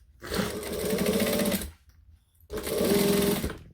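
Sewing machine stitching and back stitching a handbag, two close whirring bursts of rapid needle chatter separated by a short pause.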